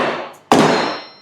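Two sharp metallic clangs from striking a shiny metal motorcycle fuel tank, the first fading out before a louder second hit rings on with a bright sustained tone.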